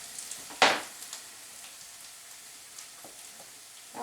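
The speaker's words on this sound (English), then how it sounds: "So I need to give those onions a stir" Browned, caramelized onions sizzle quietly in a pan for an Italian beef cheesesteak, with one sharp scrape of a stir near the start and a few softer taps after it.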